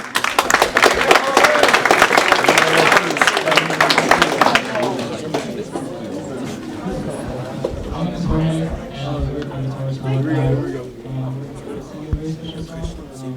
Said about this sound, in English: Thank you, everyone, and an applause for Jorge Vázquez.